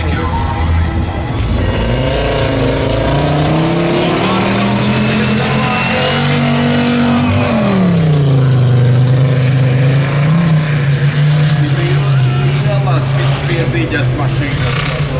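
Two 4x4 cars race side by side uphill at a Latvian hill climb drag race, with loud revving engines rising and falling in pitch as they accelerate under a commentator's voice.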